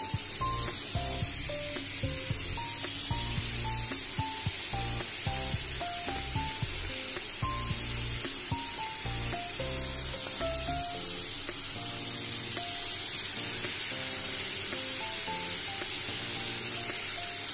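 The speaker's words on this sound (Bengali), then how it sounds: "আলুটাও একটু লাল করে নেবো। সামান্য একটু হলুদ আর নুন এই ভাজার সময়" Potatoes fry in a pan with turmeric and salt, giving a steady, even sizzle that runs throughout beneath louder background music.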